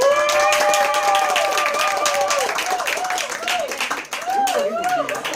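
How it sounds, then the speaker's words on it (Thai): Audience applause for a senior manager taking the stage at an Agel business event, steady clapping across the whole stretch with a voice speaking over it. "ต้องขอเสียงปรบมือนะคะ ให้กับ ซีเนียร์เมนเจอร์นะคะ"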